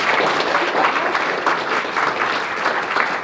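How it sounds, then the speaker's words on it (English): An audience gives a warm round of applause as a panelist takes her seat, steady, moderately loud crowd clapping with a roomy sound that continues throughout. "give her a warm round of applause"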